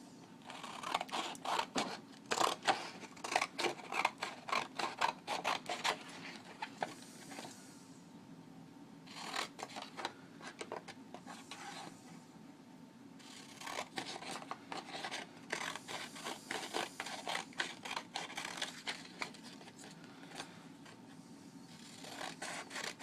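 Scissors snip triangle patterns out of material for a homemade car shift boot, giving steady runs of crisp cutting and rustling close by, with a few short pauses, no talking.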